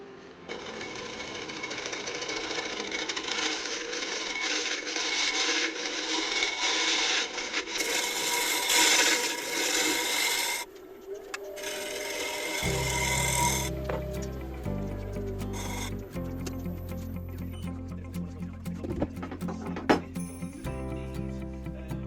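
A wooden piece on the lathe is hand sawn off, rasping back-and-forth strokes that grow louder, then give way to a different grinding, buzzing texture with low tonal hum in the second half.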